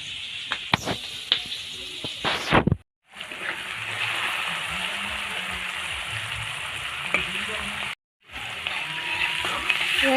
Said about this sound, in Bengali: রাইস হবে তারই ভাজাভুজি চলছে